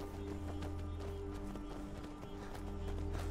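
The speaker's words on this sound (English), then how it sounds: "now the horse and the headsman is running in the different direction" Horse hooves in the Skyrim video game clop rapidly and rhythmically at a steady gallop, fairly quiet, over faint ambient game sound.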